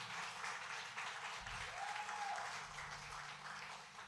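A church congregation at a Spanish-language service applauds, a soft but continuous patter of clapping that swells briefly near the middle, with faint sustained tones beneath.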